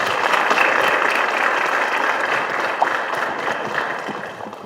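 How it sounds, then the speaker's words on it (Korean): Steady applause from a large audience at a party campaign launch rally for a national election, thick and continuous for several seconds before tapering slightly, with no talking over it. "큰 박수 부탁드립니다."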